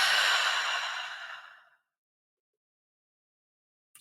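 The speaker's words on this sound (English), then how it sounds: "we're going to breathe out." A single long exhale during guided breathing, a soft, airy breath out close to the mic that fades over about a second and a half into silence.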